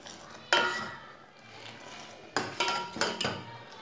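A metal whisk or spoon clatters against a pot of chai on the stove, with one sharp clank, a pause, then a quick run of three or four close metallic knocks and scrapes, no voices.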